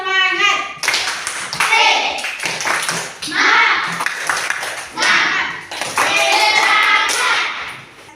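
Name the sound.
group doing the rhythmic 'tepuk semangat' spirit clap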